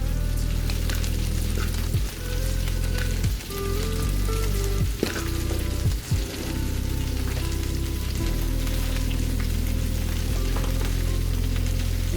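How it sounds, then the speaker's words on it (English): Cabbage sizzles loudly in a hot frying pan, a dense crackling hiss with occasional clanks of a utensil against the pan. "You can hear the sizzle."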